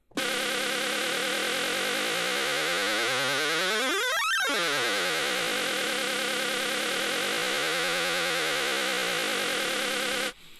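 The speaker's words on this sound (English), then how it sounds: "they loaded up some kind of sample and looped it" A buzzing, insect-like tone from a rapidly looped sample, its pitch sweeping up sharply and falling back, then wobbling again near the end.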